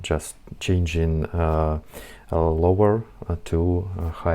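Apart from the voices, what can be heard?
No distinct noise like a dog, phone or traffic.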